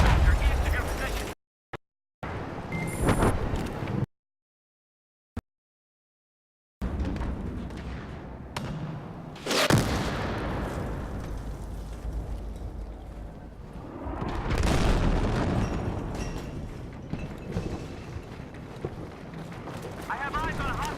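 Gunfire and explosions on a Battlefield 4 battlefield: a dense, rumbling barrage with heavy blasts and rolling booms, broken by a few brief silences, with radio voices talking over the combat.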